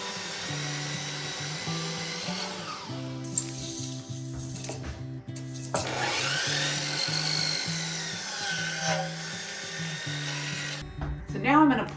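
A power tool squares off the end of a wooden board for log home stairs, whining loudly in steady tonal bursts with brief pauses and a sharper cutting sweep near the end.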